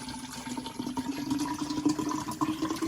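Bottled water is poured into a container for a citrus drink, making a steady close splashing gurgle throughout.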